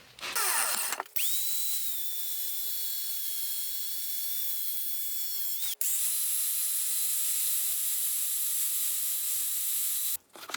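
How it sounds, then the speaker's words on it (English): A power tool cuts threaded rod down to length, running as a steady high whine for several seconds, stopping briefly, then starting again for a second long pass before winding down. No voices. "So let's cut it down to an inch of thread on the end"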